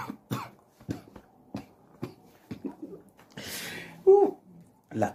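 One sharp cough bursts out partway through, loud and close, amid short breathy vocal sounds and throat noises.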